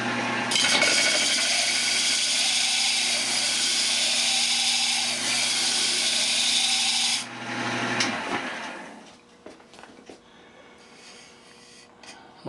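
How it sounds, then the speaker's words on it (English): Glued wooden bowl ring sanded flat on a power sander, a loud steady hissing grind for about seven seconds that then winds down, followed by faint handling clatter. "Now we have to sand this flat."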